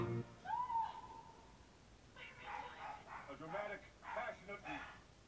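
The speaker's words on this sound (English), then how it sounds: "Excuse the dogs if y'all can hear them." Several dogs bark and yip in a burst of overlapping calls in the background, faint and somewhat distant, following a brief speaking voice.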